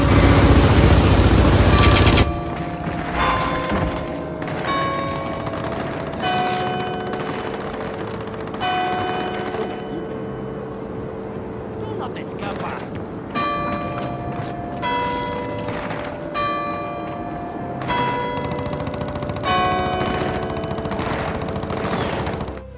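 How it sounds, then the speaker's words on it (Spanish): Repeated automatic gunfire bursts on the Punto Muerto map in Gears of War strike a bell, and sharp rattling volleys alternate with clear, ringing bell tones that sustain between the shots. "dispara a la campana en 12 ráfagas y en algún momento va a dar campanadas"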